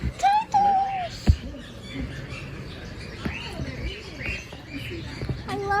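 Tiny birds at a bird farm, kept together with turtles, give short, high, sweeping chirps scattered across a few seconds over a low background murmur.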